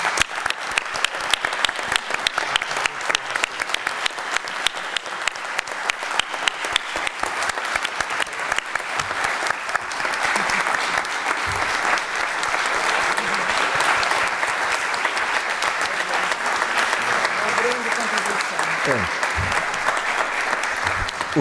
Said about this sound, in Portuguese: de nós um aplauso